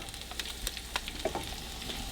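Peppers and onions with seasoning are stirred in a frying pan, soft sizzling under scattered light taps and scrapes of a utensil, fairly quiet and close.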